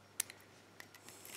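A lock pick slides across the five pin tumblers in a narrow lock keyway, producing a few faint, sharp metallic clicks spaced irregularly, close up and quiet, with no talk.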